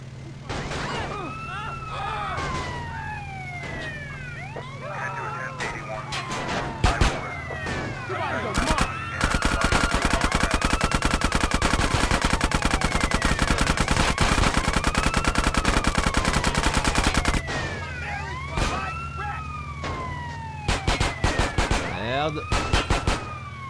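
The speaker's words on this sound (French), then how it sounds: "je peux aussi tirer avec le vortex" Guns firing from a Vortex hovercraft in GTA San Andreas Definitive Edition: long rapid machine-gun bursts rattle loudly over a steady engine hum, with a siren wailing in waves and a few separate single shots between bursts.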